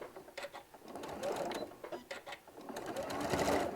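A sewing machine back stitching a bottle bag holder, running in short quiet bursts of rapid needle clatter with brief pauses between them.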